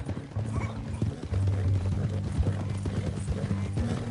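Horse hooves clip-clop steadily in Red Dead Redemption 2 as a rider travels on horseback, a continuous rhythmic plodding under game music and ambience.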